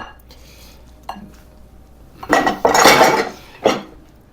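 A thick artichoke spread scraped onto a greased metal baking sheet: a few light clinks, then loud, close scraping and clattering of utensil on pan in two bursts with a short pause, and no one talking.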